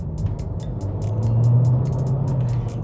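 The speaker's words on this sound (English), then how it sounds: "Right now, we are driving the Honda HR-V, and in terms of acceleration," A 2023 Honda HR-V with a CVT accelerating on the road, heard from inside as a steady low engine and road rumble that swells slightly midway, with faint ticking clicks above.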